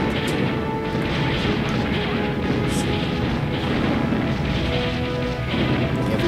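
Artillery fire in the real-time strategy game Ground Control, a dense, continuous barrage of booming shots and crashing impacts layered over steady battlefield rumble, loud and unbroken throughout with no voices.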